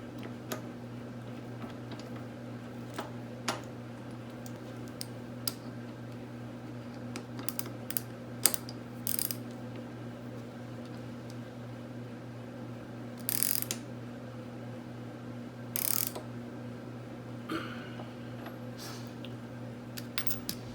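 Ratchet wrench snugging a bolt on the A-arm suspension of a Honda 400ex ATV: scattered short bursts of clicking over a steady low garage hum.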